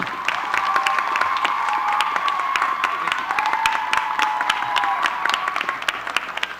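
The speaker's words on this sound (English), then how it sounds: "Let's give a warm round of applause for the Executive Director of the Arkansas Dr. Martin Luther King Jr. Commission, Mr. Deshaun Scarborough." Warm crowd applause and cheering for the Executive Director of the Arkansas Dr. Martin Luther King Jr. Commission at a commemorative vigil, dense sustained clapping with whoops and raised voices, loud and continuous.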